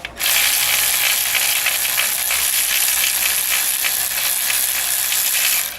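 A ratchet works at the starter bolts on a BMW M52 engine: a dense, steady stream of rapid metallic clicking that stays loud and close throughout, with no talking.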